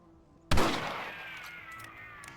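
Rifle shot in Red Dead Redemption: one sharp, loud crack after brief quiet, followed by a long echoing ring and tail that slowly fades.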